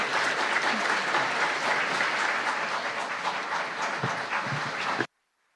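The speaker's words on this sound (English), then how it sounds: "Te wielkie brawa są jak najbardziej zasłużone." An audience at a Warsaw Against Depression event applauds, a dense, sustained wash of clapping from many hands that holds steady for about five seconds before cutting off abruptly.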